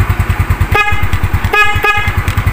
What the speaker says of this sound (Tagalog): Okay na rin yung busina niya.